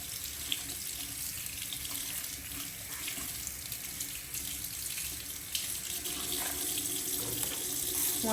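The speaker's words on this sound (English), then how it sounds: "let's rinse it" A makeup brush is rinsed under a running tap, giving a steady splashing water stream into a sink that grows slightly louder toward the end.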